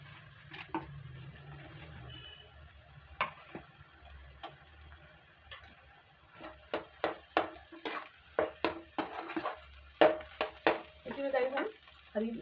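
A spoon stirs and scrapes translucent fried onions and boiled potatoes in a pan, cooking a bread roll filling; soft scattered clicks give way to a quicker run of sharp taps and scrapes, close and moderately loud.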